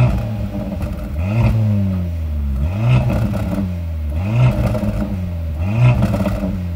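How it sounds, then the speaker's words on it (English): Turbocharged inline-four engine of a 2024 Mercedes-AMG C43 revs repeatedly, four or five loud rising blips that climb and fall back to idle, heard up close with no talking. "A turbocharged inline 4 that sounds like this."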